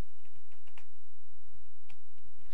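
Someone types a MySQL query on a computer keyboard indoors, a quick run of close, crisp key clicks with short pauses between bursts.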